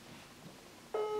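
A Skype video call tone starts near the end, a clear electronic ringing beep that sounds suddenly after a quiet room.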